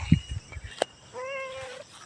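A single drawn-out meow rises and holds for about a second, clear and fairly close, after a few soft thumps and a brief click.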